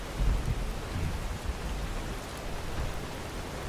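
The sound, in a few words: rain in video game Fallout 4 Far Harbor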